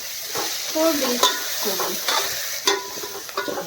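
Vegetables sizzle in a hot pan as they are tempered, with a steady frying hiss and repeated scraping stirs of a spoon against the pan, close by and fairly quiet.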